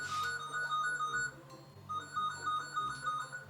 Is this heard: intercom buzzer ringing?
yes